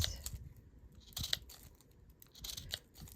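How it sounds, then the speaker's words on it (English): Scissors snipping through strips of folded crepe paper, a few quick crisp cuts in small bursts with quiet pauses between, close up and fairly soft with no talking. "We're going to take our scissors and we're going to cut."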